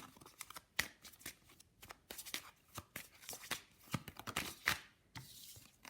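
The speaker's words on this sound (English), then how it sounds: "I'm gonna pull some love oracle cards." Love oracle cards shuffled by hand in a tarot-style reading, a steady stream of quick papery riffles and flicks at close range with no talking.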